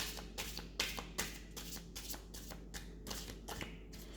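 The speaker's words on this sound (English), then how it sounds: "Now I'm going to clear the cards." Playing cards are gathered and shuffled, a quick run of close, crisp riffling flutters and soft slaps in a steady rhythm, with no voices.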